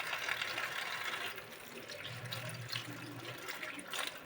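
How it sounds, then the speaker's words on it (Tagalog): Running tap water splashes steadily over vegetables being washed one by one in a sink, a continuous close hiss and patter with no speech. "Kailangan hugasan natin isa-isa yung gulay."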